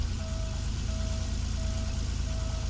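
A 1991 Porsche 911 Carrera 2 Cabriolet engine idles with a steady, close rumble, while a faint electronic chime beeps at regular intervals over it.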